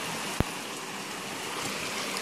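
A mountain stream in the Alps rushes in a steady, close broadband wash beside a campsite, with one brief sharp tap near the start and no voices.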